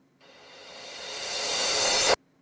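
A reversed hi-hat sample swells as a bright hiss that grows steadily louder for about two seconds, then cuts off abruptly.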